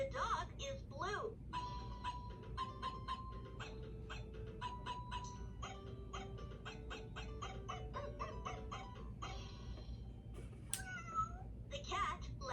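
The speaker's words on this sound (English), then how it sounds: "The cat likes to purr." Electronic meow from a toy spin-and-learn color flashlight, a short synthetic cat call among chirpy toy tones and a bright melody, with a recorded voice speaking over it.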